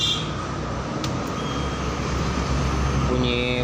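A Honda Beat Street motorcycle's fuel pump primes, a steady whirring hum filling the whole stretch at close range with faint higher beeps near the start and end, no talk over it.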